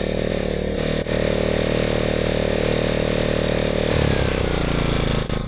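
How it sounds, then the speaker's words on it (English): A portable generator's engine runs steadily in economy mode, a continuous close motor drone with a strong low hum that holds even throughout, with a brief dip near the start and a slight shift in tone toward the end. "right now the generator is running in economy mode"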